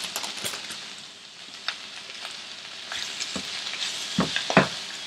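Spinach wilting in a hot pan for paneer palak, sizzling steadily while a spoon stirs it in scattered scraping strokes, a few louder clacks near the end.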